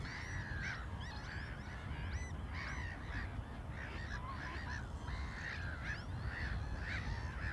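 A flock of wild geese honking at a wintering marshland of old polders: repeated overlapping calls at a moderate distance over a steady background rumble, no talking.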